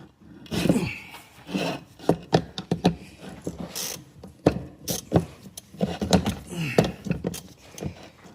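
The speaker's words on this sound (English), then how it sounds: "we're gonna grab our ratchet and a 3/8 socket, and we're gonna get those off there" A ratchet with a 3/8 socket works bolts off an electric PTO clutch on a zero-turn lawn mower, giving bursts of rapid metallic clicking and scraping in uneven spurts, close up.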